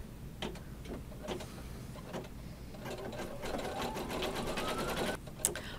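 An embroidery machine stitches an in-the-hoop Valentine placemat, first with spaced needle strokes, then a faster continuous zigzag run with a rising motor whine, close and fairly quiet.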